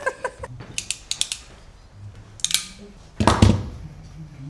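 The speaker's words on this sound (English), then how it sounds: "Right, that one's crimped." Sharp clicking mechanical clacks from a crimp tool squeezing a wire connector during a 1969 VW Beetle restoration, several quick ratchet clicks early, then a louder crunching squeeze near the end, close by with some background movement.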